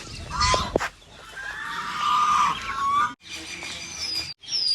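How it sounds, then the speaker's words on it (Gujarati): Scattered duck quacks and squawky calls at moderate distance at a dam, coming in uneven bursts with brief breaks and some background noise. "બતક આપણને બોલાવે છે"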